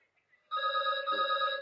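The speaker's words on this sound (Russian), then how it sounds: "мне звонят, домофон" An apartment intercom buzzer rings with a loud, steady electronic tone that starts abruptly and holds continuously, close and alone with no talk over it.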